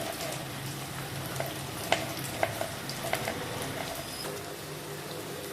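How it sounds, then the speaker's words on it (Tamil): Brinjal (eggplant) slices sizzle steadily while frying in oil for a Tamil semi-gravy, with occasional soft clinks and scrapes of a spoon stirring them in the pan. "இந்த கத்திரிக்காய் இதில் சேர்த்துக்கலாம். நல்லா கலந்து விட்டுட்டு இதுவுமே ஒரு 2 நிமிஷம் இந்த எண்ணெயில் நல்லா வதங்கி வரட்டும்."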